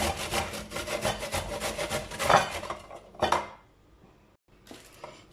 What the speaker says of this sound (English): For the carrot, you need a scraper like this, something like this, to scrape it.